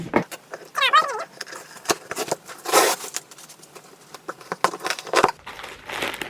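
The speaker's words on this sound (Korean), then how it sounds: "언박싱 개념으로 같이 뜯어보겠습니다" A delivered package is torn open and unwrapped, with crinkling plastic and paper, a sharp rip, rustling and small taps, heard close up in bursts while someone talks over it.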